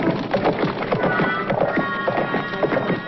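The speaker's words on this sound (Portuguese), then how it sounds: "É o Mato Raso e o seu cavalo capega" A lame horse's hooves clip-clop in a 1977 cartoon, an uneven rapid string of loud, close woody hoofbeats over a steady music bed.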